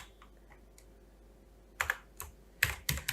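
Keys clack on a computer keyboard while text is entered in Adobe Illustrator: a few faint taps early, then a quick burst of sharper, closer keystrokes toward the end.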